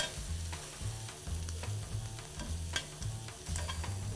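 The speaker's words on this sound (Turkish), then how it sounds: "üzerine böyle bir çorba kaşığı kadar tereyağını koyuyorum ve karıştırıyorum" Beef tenderloin sizzles with a spoonful of butter in a pan while being stirred, a quiet steady fry with light scraping and occasional pops, close up and without speech.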